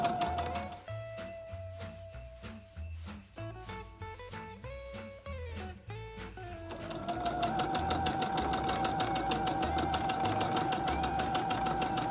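A sewing machine stitches a Christmas tree napkin with a fast, steady mechanical chatter, pausing and shifting pace as it back stitches at the corner, then running on continuously and a little louder.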